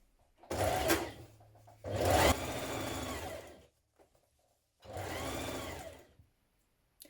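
A sewing machine stitches down a trouser pocket seam in three bursts, the first two short and close together, then a pause before a final steady run of whirring needle strokes.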